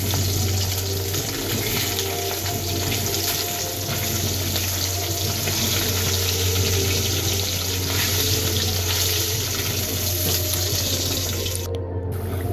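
Tap water runs steadily into a kitchen sink while fish is being washed, a constant close splashing stream with a low hum beneath, unbroken until a brief cut near the end.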